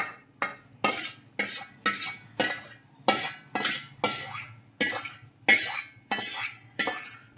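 A metal spoon scrapes and clinks rhythmically against a pot while jaggery melts in ghee, about a dozen evenly spaced strokes close by with quiet gaps between them.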